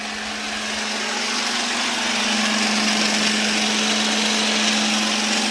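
A mains-powered electric jigsaw with its speed wheel turned almost to the minimum, running slowly as a steady, close motor whine with a constant hum, alone and unbroken throughout.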